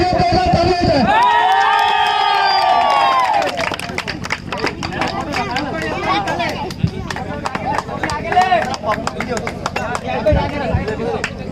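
Applause and cheering from a crowd at an outdoor cricket league prize presentation ceremony, steady clapping filling the scene with a loud amplified announcer speaking over it throughout.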